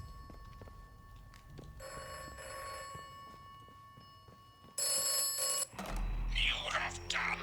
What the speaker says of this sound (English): There it is. A ringing phone.